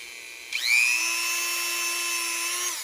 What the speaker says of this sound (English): I just got a standard polish wheel on the Dremel